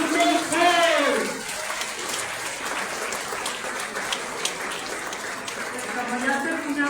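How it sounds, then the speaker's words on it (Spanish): An audience at a monthly church retreat claps steadily in a dense, even patter, with voices talking and calling out over the start and again near the end. "¡Aplauso!"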